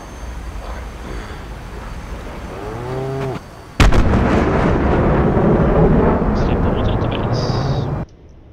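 Saab Viggen strafing gunfire in the DCS combat flight game, a loud sustained roaring burst of several seconds that follows a brief cow moo, cutting off abruptly near the end.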